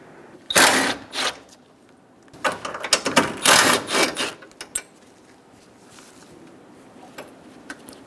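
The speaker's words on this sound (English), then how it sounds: "Using a 12mm socket, remove the 2 bolts for the radiator brackets." Ratchet on a 12mm socket removing radiator bracket bolts on a 2010-2014 Subaru Outback during AC condenser replacement: two bursts of close, dry ratcheting clicks with short pauses, then quieter handling noises.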